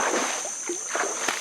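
A person jumps into open water on a hot day outdoors, giving a few brief splashy bursts and sloshing close by over steady background hiss.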